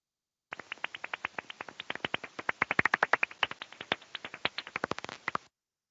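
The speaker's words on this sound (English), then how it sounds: "So this is a call of common or soprano pipistrelle" Common or soprano pipistrelle bat echolocation call played back as a dense, steady train of sharp clicks, around fifty pulses over five seconds, clear and isolated against silence.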